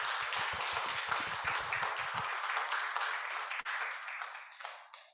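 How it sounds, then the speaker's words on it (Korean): An audience gives dense, steady applause at a ceremony for a branch heads' convention and chairman inauguration, then the clapping thins and fades out near the end. "우리 박수 한번 주시죠."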